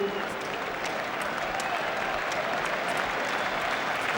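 A football crowd applauding at Arsenal vs Manchester United, a dense, sustained wash of clapping from a large stadium audience, steady and fairly loud for the whole stretch, with faint voices mixed in.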